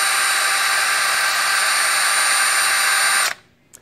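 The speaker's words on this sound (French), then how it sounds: "En faisant tourner la mèche," H2O Innovation maple tapping drill bit spinning in a sugar bush, a loud steady high-pitched whine held for about three seconds that cuts off sharply, followed by a brief faint tap.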